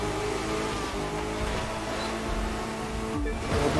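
A car engine hums steadily while driving in The Crew 2, a continuous mid-loud motor drone with shifting harmonic tones and a brief dip near the end, no voices over it.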